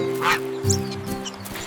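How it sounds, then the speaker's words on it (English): Quacking from a goose in a children's nursery rhyme song, two short cartoonish calls rising over steady, sustained backing music. "Goosey Gander strutted slow, quacking softly to and fro"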